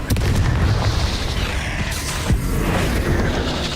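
Descendo spell in Hogwarts Legacy slams down with heavy booming impacts amid crackling, explosive combat effects, loud and sustained with a sharp thud partway through.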